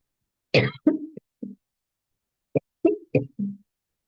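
A series of short, sharp coughs in two bursts separated by a brief pause, close and clear against silence.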